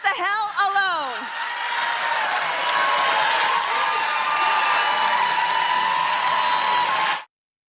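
An audience at a political speech bursts into sustained applause with scattered cheers, a dense steady wash of clapping after a brief spoken line, ending abruptly.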